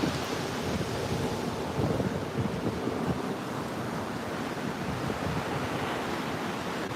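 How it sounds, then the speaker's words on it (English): Ocean surf and a steady breeze at Myrtle Beach make a continuous broad wash of waves, with wind buffeting the microphone throughout and no voices. "We got a good breeze going."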